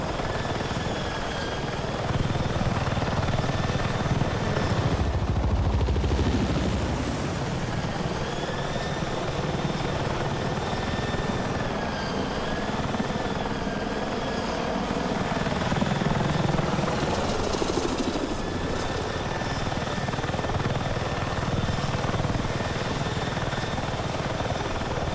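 Helicopter in Battlefield 6 drones steadily with a loud rotor hum and whine throughout, the tone shifting slightly as it maneuvers, with no voices over it.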